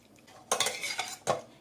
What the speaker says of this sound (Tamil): தண்ணி சேர்த்துட்டு நல்லா கரைச்சிக்கலாம்